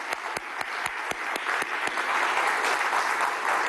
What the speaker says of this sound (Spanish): un aplauso para la profe